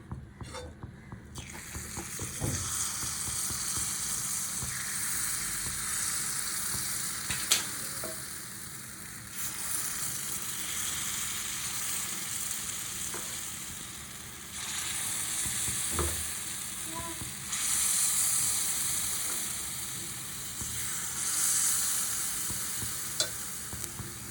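A sweet ragi roti sizzles steadily as it fries in sesame oil in a pan, with a constant crackle throughout and occasional faint scrapes and clinks from stirring.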